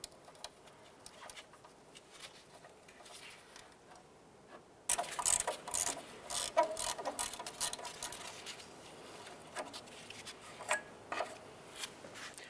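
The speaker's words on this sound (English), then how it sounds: "Let's go ahead and loosen and remove that bolt." A ratchet working loose a 10 mm bolt on the strut bracket holding the front brake flex line of a 2011-2019 Ford Fiesta, quick close clicking ticks in bursts, quiet at first and then louder and denser.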